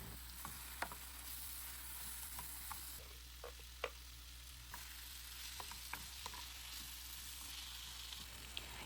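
Vegetables, tomato, pepper and onion with spices and salt, frying in a pan, giving a constant close sizzle with occasional light scrapes and taps as they are stirred, no voices.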